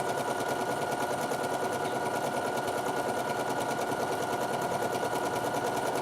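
Sewing machine running steadily at a narrow zigzag width of about 1.5 along the raw edge of fabric, a constant close mechanical whirr and rapid needle clatter with no pauses or voices.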